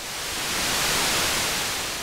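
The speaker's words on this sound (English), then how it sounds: "Turn down the Moog, turn up the white noise." White noise from a Disting Eurorack module, a steady broadband hiss that swells slightly and holds evenly for about two seconds, loud and alone with no talking.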